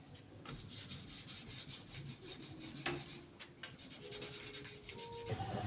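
Steady, quiet rubbing strokes of wet 240-grit sandpaper being worked back and forth across a surface, rhythmic and close, with no talking.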